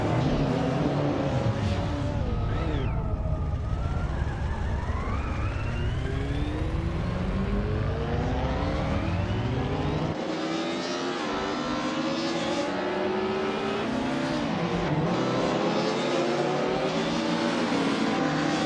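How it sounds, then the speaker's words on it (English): A 1986 Alfa Romeo 75 Group N race car starts a race on a vintage track. Loud engines roar and climb in pitch through gear changes, with other cars droning alongside and passing throughout. "the race just kicked off at the Alenta Herrada vintage track. The top car is a Group N, Alfa Romeo 75 from 1986"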